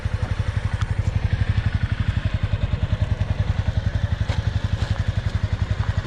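A Honda CBR300 motorcycle ridden slowly by a learner runs with a steady, rapid low engine thrum at gentle throttle, close and continuous, with faint clatter over it.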